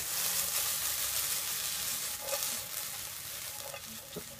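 Bean sprouts stir-fry in a hot pan, a loud steady sizzle up close with a few scraping stirs of the utensil near the end and no talking.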